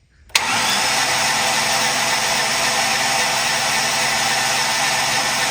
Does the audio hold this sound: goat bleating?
no